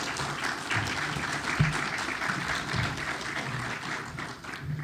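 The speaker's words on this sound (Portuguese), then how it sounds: "Por favor, peço uma salva de palmas à nossa palestrante" A conference audience gives moderate, steady applause for a speaker at a hydrography event, with a dense patter of claps at middling distance and no voices.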